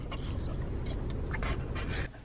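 A nervous dog pants close by in quick steady breaths, with faint whimpers and rustling mixed in, and the sound eases slightly at the end.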